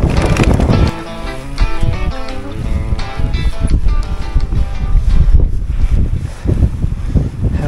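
Strong wind at Alpe Gigiai in the mountains above western Lake Como, battering the microphone in loud, rough, continuous gusts that surge and rumble throughout with no voices heard.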